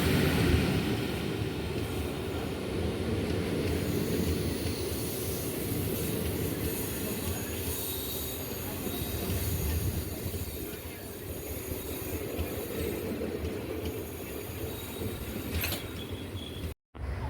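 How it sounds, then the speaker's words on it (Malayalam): A passenger train hauled by a WG9 locomotive together with a WP1 runs on the line toward Kanniyakumari, heard from on board as a steady loud rumble with wheel squeal and faint clatter that continue throughout. "ഒരു WG9 ആണ് ലോക്കോമോട്ടീവ്. ഒരു WP1 കൂടെ ഉണ്ട് നമ്മുടെ ട്രെയിനിൻ്റെ കൂടെ കേട്ടോ."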